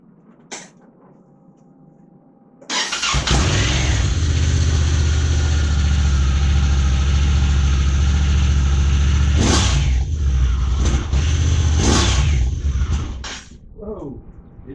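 A Honda Talon Evo side-by-side with an aftermarket muffler cranks and fires on a cold start, settling into a loud, steady, rumbling idle for about ten seconds with a couple of throttle blips before shutting off.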